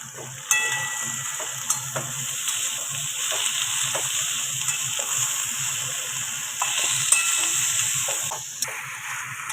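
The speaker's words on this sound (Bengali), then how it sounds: "লবণ দিয়ে এটাকে আমরা ভালো করে মিশিয়ে নেব" A spice paste for a winter-vegetable spinach curry, mixed with salt in a pan, sizzles and hisses steadily, with a few soft scrapes of stirring and no talk.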